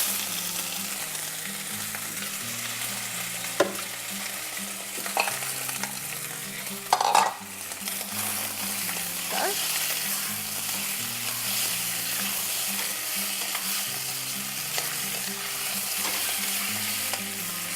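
Shrimp and crushed garlic frying in olive oil make a loud, continuous sizzle with occasional stirring clatter, close up and without talk.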